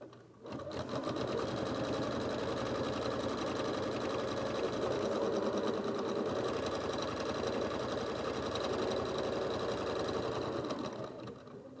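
An embroidery sewing machine stitches a tack-down sequence to secure fabric for an in-the-hoop USB fob, producing a steady, rapid mechanical whir and needle patter that runs continuously and close up, alone.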